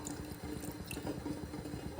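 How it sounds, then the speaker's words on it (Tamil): A little water poured into a pan on the stove, a soft trickling and dripping stream, faint and continuous for a couple of seconds with no voices. "அடுப்பு ஆன் பண்ணிவிட்டு கொஞ்சமாக தண்ணி ஊற்றிக்கணும்."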